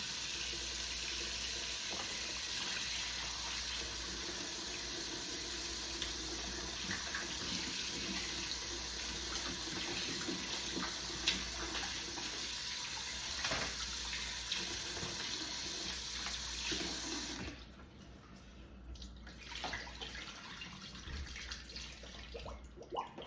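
Tap water runs steadily into a sink rinsing potatoes for most of the stretch, a constant hissing splash, then cuts off, leaving quieter drips and handling sounds.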